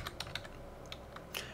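Soft keystrokes on a computer keyboard, a handful of separate taps spaced unevenly, close but quiet, with no talking.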